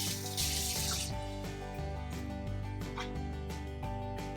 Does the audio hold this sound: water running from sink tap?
yes